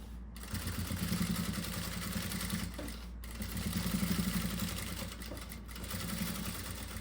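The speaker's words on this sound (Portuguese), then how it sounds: "E vou fazendo uma costurinha bem reta aqui." A sewing machine stitches a straight seam through fabric lining for a zippered cosmetic pouch, its motor running in steady bursts with a brief pause, close and continuous with no talk.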